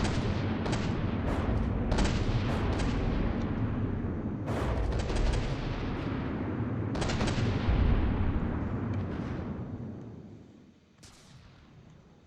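Naval guns in a video game fire at a ship's superstructure, producing a series of heavy booming shots and impacts with rumbling tails. The barrage is loud and fairly close, then thins out near the end.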